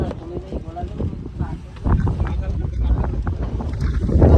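Wind buffets the microphone on a moving boat, with a continuous rushing rumble of the ride while people talk over it.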